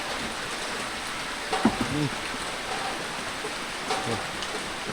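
Light rain falls in a steady, even hiss throughout an outdoor rural setting, with a couple of brief voices breaking through faintly underneath.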